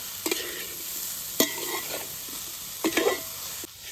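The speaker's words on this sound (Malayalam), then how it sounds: "മൊത്തം നന്നായിട്ട് ഇളക്കി കൊടുക്കുന്നുണ്ട്" A spatula stirs tender jackfruit stir-fry in a pan, with a few sharp scraping strokes over a low, steady sizzle, the clatter coming in short bursts with quieter gaps between.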